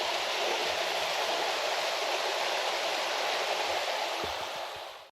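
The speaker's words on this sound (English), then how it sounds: "While undoubtedly it is a waterfall," Steady waterfall in Snowdonia woodland, beside the Watkin path up Snowdon, gives a constant, broad rushing roar that stays loud and even throughout, then cuts off abruptly at the end.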